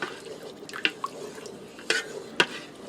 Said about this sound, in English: I'm going to stir that in and get it starting to dissolve into that beef broth wine mixture.